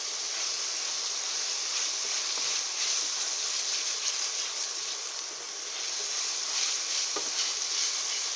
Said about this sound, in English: The stem tends to be more starchy and woody like, so that's why I like to saute them first.